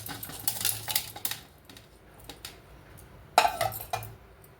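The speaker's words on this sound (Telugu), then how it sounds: "నేనైతే ఇలా ఒక పెద్ద స్టీల్ పళ్ళెం ఒకటి తీసుకున్నాను." A large steel plate handled during amla candy preparation, giving a few bright metallic clinks and scrapes in short bursts, fairly close and moderately quiet with gaps of quiet between them.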